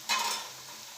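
Gujarati dal vada fritters fry in hot oil over medium flame, a soft, close sizzle that swells briefly with a stir or turn and then settles into a gentle steady hiss.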